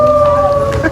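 Simba, a pet dog, lets out a short, close, loud howl, a sustained tonal wail lasting under a second.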